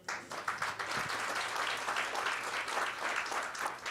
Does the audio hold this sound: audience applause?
yes